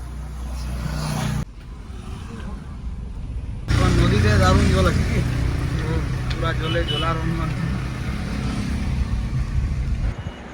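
A car travelling along a road on the way home, its engine and road noise droning steadily throughout, louder after a few seconds, with people talking over it.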